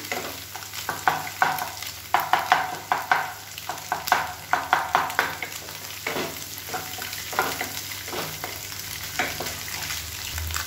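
Egg frying in a pan for egg fried rice, stirred with repeated rhythmic spatula scrapes over a steady sizzle, close and fairly loud with no talking.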